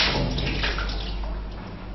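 Water rushes steadily through a repaired ARK flush cock valve, a continuous broadband hiss and splash like a tap running at full flow, close and unbroken for the whole stretch without speech.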